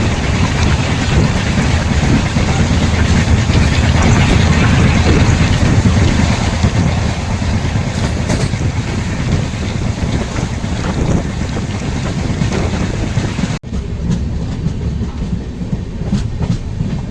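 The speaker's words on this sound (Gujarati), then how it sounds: "આપણી ટ્રેન સાવરકુંડલા રેલવે સ્ટેશનથી નીકળી ગઈ છે" Aboard the Surat Mahuva Express pulling out of Savarkundla station, a loud, steady rumble of the moving train mixes with heavy wind buffeting, continuous and close, with a brief break near the end.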